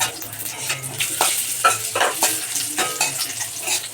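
Cashews, raisins and dates fry in a little mustard oil with bay leaves and a dried chilli, sizzling softly while a spoon scrapes and stirs the pan in repeated close strokes.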